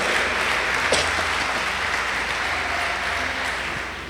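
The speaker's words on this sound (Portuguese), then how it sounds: "Se é para Jesus, aplauda com vontade" Church congregation applauding during a worship service, a steady, full wash of clapping from many hands that holds evenly and tapers slightly at the end.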